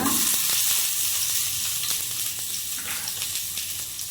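Chopped onion frying in a spoonful of oil in a pan, a continuous close sizzle with faint stirring scrapes.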